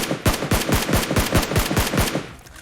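Fast automatic rifle fire in the PUBG Mobile video game, a steady string of about a dozen close, loud shots over a couple of seconds.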